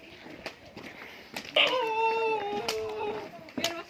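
A dog whimpers and yips at a rural family resort near goats, one drawn-out tonal whine rising then sliding down, moderately close, with people talking and rustling around it.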